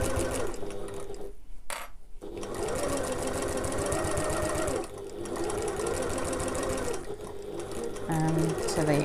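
A sewing machine back stitches across a backpack flap in steady, loud mechanical runs, pausing briefly and resuming; a voice talks over the stitching.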